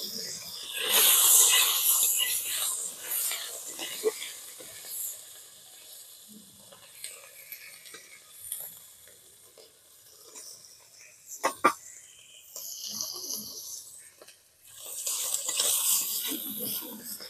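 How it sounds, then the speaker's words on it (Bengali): Prawns frying in hot oil in a kadai, a steady close hiss and sizzle that swells and fades in waves, with occasional stirring clatter and a person talking over it. "কড়াইতে তেল দিয়ে দিলাম, এবারে আমি চিংড়ি মাছগুলো ভেজে নেব।"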